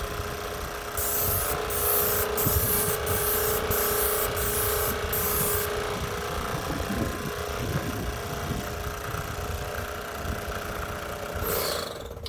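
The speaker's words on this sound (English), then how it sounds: "We will spray the back." A Titan paint sprayer hisses in a steady, loud continuous spray onto the back of a cabinet outdoors in wind, with an engine-like drone underneath and a few rhythmic pulses early on.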